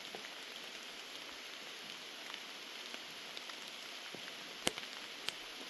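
Steady rain pours down outdoors during a downpour, a dense, even hiss of drops on surfaces with a few sharper nearby drips standing out, fairly faint overall and with no one talking.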